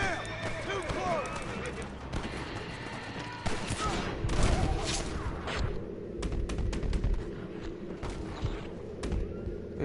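Gunfire in Red Dead Redemption, irregular bursts of shots amid horse sounds and hoofbeats, fairly loud and close, with speech mixed in.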